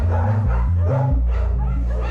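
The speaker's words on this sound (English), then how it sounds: "Ty and the other male, who's called Bully, are once again noisy neighbours." Dogs in maximum-security kennels bark over one another, a loud and continuous run of overlapping barks and yips close at hand.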